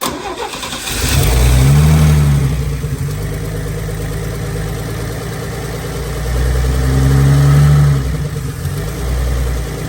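An old Chevy K10 squarebody truck cranks and fires, its engine revving loudly twice near and up close, settling to a rough idle between the surges, with no talk.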